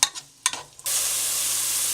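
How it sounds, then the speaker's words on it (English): A few clattering knocks of a spoon or utensil, then chopped onions hit hot oil in a pan over medium-high heat and sizzle loudly and steadily as they sauté. "You want to add your onions. Saute them until they're tender"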